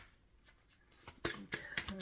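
Quick bursts of tarot card shuffling, a few short riffling flurries that grow louder toward the end, close by in a quiet room.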